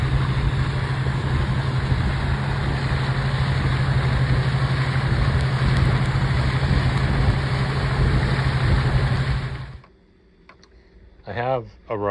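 A steady boat engine on the Rio San Juan drones loudly for about ten seconds, then cuts out, leaving near-quiet and a brief voice.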